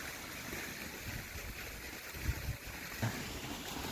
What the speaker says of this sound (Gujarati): તાજા પાણી ચલ રહા હૈ મોટર કા.